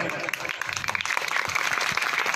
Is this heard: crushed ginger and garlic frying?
no